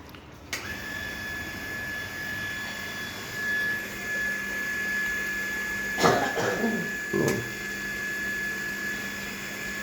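A motor-driven water pump runs during a second refilling, giving a steady whine over a low hum throughout, with a brief clattering burst of handling noise near the end.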